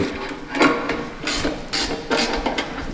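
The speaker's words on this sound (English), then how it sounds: "I can take my wrench, start tightening down a little bit," Wrench ratcheting while tightening the mounting bolts of a vehicle winch, heard as several short bursts of rapid clicking spaced about half a second apart, fairly close and alone.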